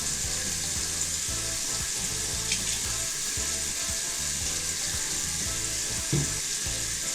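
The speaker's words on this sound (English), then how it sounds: "usually what I do is I wet the brush and then I just swirl it around." A wet makeup brush is swirled in homemade DIY brush soap, making a continuous close, wet, ratcheting squish with a steady rhythmic churn and a fizzy hiss throughout.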